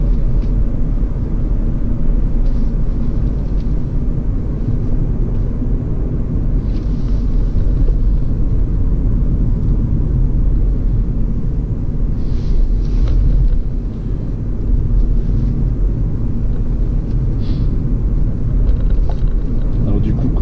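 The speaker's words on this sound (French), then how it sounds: "Elle est silencieuse, on entend plus le roulement des roues à l'arrière plutôt" A 2018 Hyundai Ioniq Hybrid on the move, with a steady low road rumble and rear-wheel rolling noise running the whole time, joined by faint wind hiss and short bursts of talking inside the car.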